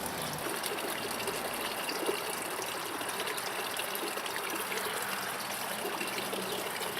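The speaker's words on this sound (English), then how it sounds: "Spilling all this liquid gold all over the ground here." Water from a leaking Coleman solar shower bag spills onto the ground outdoors in a steady, close splashing trickle that never lets up.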